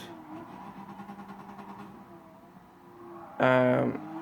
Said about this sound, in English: Wearing up the engine there. with aggressive downshifts.